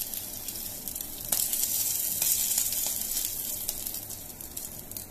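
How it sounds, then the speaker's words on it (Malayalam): Anchovies fry in hot oil with a constant bright sizzle, punctuated by sharp crackling pops and spits, close up and without any voices. "ഇപ്പോൾ ഇതിലേക്ക് ബാക്കിയുള്ള മീനും കൂടെ നമുക്കൊന്ന് വറുത്തെടുക്കാം"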